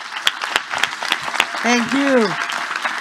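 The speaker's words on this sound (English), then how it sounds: "Big round of applause" An audience claps at the official opening of a human rights forum at UN City, Copenhagen, with scattered, modest applause continuing while a voice says a few words of thanks over it.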